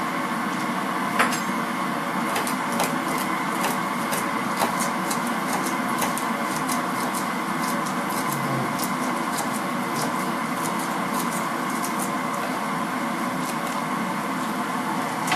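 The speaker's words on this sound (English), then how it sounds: "just cut the celery into rough slices" A knife slicing celery into rough pieces on a cutting board, heard as a steady run of quick, light taps over a constant background hum.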